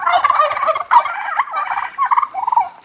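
Several turkeys gobble loudly and close by in rapid, overlapping bursts that run nearly without pause, with no talking.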